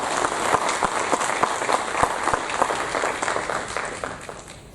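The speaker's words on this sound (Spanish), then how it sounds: "Un aplauso, por favor, para ella." Conference audience at an anti-corruption event applauding a speaker, a full round of many hands clapping in a hall with distinct close claps over a steady crowd wash, tapering slightly toward the end.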